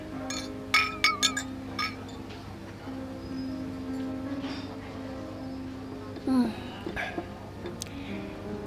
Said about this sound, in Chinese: 干杯。